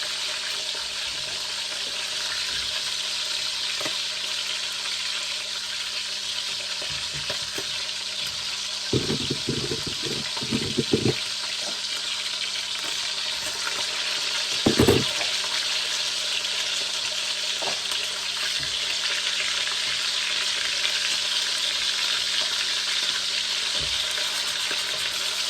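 Pork pieces frying for fried pork sinigang, a steady broadband sizzle of hot oil in a pan, broken around the middle by a few louder bursts of stirring and turning, with no voices.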